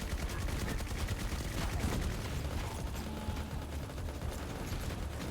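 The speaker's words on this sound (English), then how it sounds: "That's a lot of explosions." Dense barrage of grenade blasts and gunfire from the FatalZone zombie-horde video game, a continuous loud rattle of bursts and crackling fragments with no talk over it.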